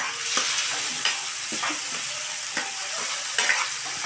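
Food frying in a pan while being stirred all the way through, curry leaves about to go in; a steady sizzle with repeated scraping stir strokes, close and fairly loud, no voices.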